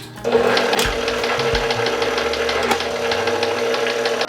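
A stand mixer with a dough hook kneading focaccia dough with olive oil, a steady mechanical motor whir with rhythmic knocking and thumps near the start, close and loud, no voices.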